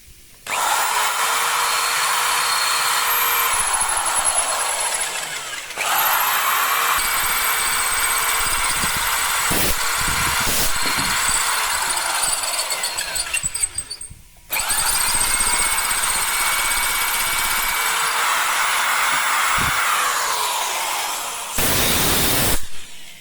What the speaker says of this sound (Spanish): con un taladro que funcione bien, ya veis lo fácil que se perfora